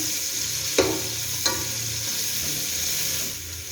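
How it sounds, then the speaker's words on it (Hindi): Ginger garlic paste frying in a pan with browned onions for matar pulao, a continuous sizzle broken by two sharp clinks of a spoon against the pan, with no talking. "अब इसमें मैं अदरक लहसुन का पेस्ट ऐड करूंगी और इसको हल्का सा पका लेंगे।"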